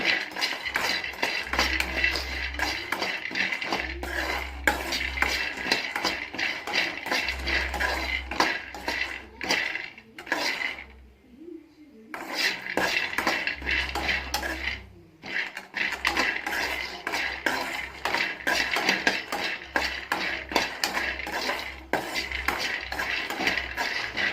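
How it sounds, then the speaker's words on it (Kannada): Peanuts roasting in a dry pan on the stove, stirred continuously with a metal utensil, giving a dense, steady rattling and scraping with brief pauses near the middle; no voices. "ಕಡಲೆಬೀಜನ ಚೆನ್ನಾಗಿ ಫ್ರೈ ಮಾಡ್ಕೊಳ್ಳಿ ಈ ಥರ"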